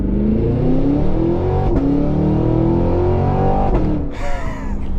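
A Cadillac Escalade V accelerates hard up an on-ramp, its engine note rising in pitch with a deep, loud roar and an upshift near the end, heard from inside the cabin.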